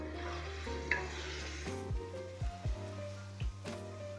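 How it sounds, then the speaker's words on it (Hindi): Cauliflower and chicken (gobhi gosht) being roasted in a pan over a low flame: a soft, continuous sizzle broken by a few dull spatula knocks and stirs, close by, with no talking. "हल्की आंच पर इसे अच्छी तरह से भुनाई करेंगे"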